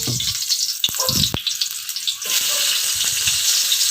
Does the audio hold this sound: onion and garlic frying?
yes